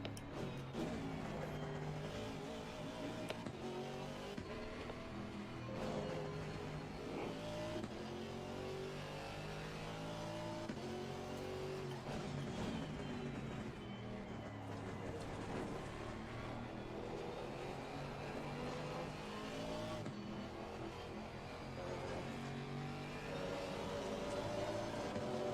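Ginetta G55 race car engine in Assetto Corsa Competizione at Misano, a continuous mid-pitched roar that rises and falls as it revs and shifts, steady and fairly quiet throughout with no talk.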